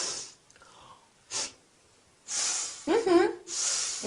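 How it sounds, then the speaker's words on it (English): Several short breathy sniffs through the nose made to show disapproval, close and separated by pauses, with a brief vocal sound in the middle. "How do I show disapproval? Easy. You sniff."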